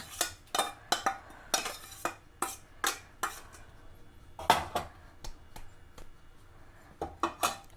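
Pineapple cake batter mixed by hand in a bowl, a run of rhythmic scraping knocks of a spoon against the bowl, close and steady with no talk.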